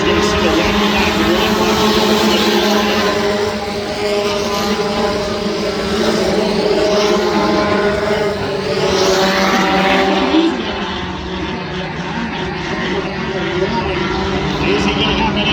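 Race cars come off turn four at Adams County Speedway, their engines making a loud continuous roar that swells and then eases, under an announcer calling the race.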